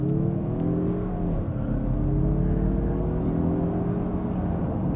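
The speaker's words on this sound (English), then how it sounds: "Let's go ahead and launch it again. So brake, gas, boost up, and go." A 2023 Mazda CX-30 Turbo AWD launching hard, its engine note climbing steadily under acceleration in one continuous loud, close drone with no voices.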